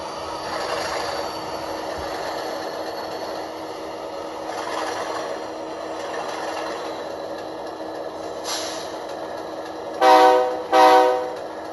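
A model locomotive sound decoder with a scale speaker, in Morrison Knudsen power, plays a steady diesel engine drone, then two short, loud horn toots near the end.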